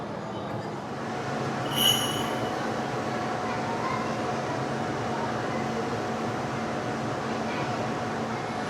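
A Taipei MRT metro train rolls steadily along the rails with a constant rumble, a faint hum and a brief high squeal early on.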